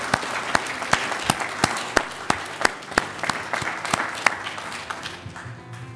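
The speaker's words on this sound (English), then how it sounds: "So let's give a round of applause to everyone, our family, friends, and staff." Applause from family, friends and staff at a speech, a loose patter of hands with sharp individual claps standing out, thinning toward the end.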